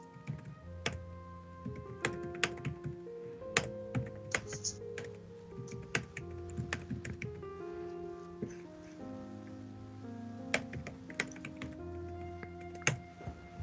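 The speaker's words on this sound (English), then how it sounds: "And I'm typing it up right now." Rapid typing on a computer keyboard, a steady stream of sharp clicks over continuous background music, with no speech.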